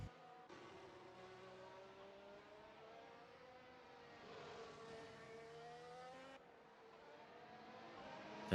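Race car engines from a racing video game at the Hockenheimring, a continuous droning whine with steady rising and falling pitch as the cars lap, loud and unbroken with no talk.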